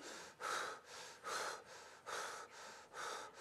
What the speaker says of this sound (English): I want you to take some quick, shallow breaths like this.